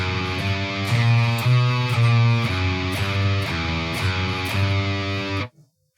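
Distorted electric guitar chugs through a metal riff with tight down or alternate picking, a loud and steady pulse of palm-muted notes and chords that stops abruptly near the end, with no voice.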